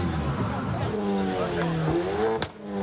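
Modified cars idle and rev at a parking-lot gathering of about a thousand people, engines droning under crowd babble and chatter, with a sharp burst near the end.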